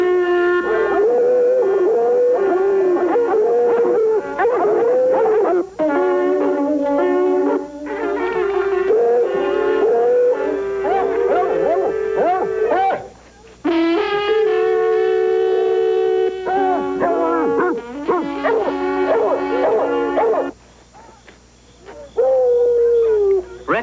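Hound dogs howl loudly and continuously at night in long, wavering, overlapping cries with occasional breaks, close and dominant.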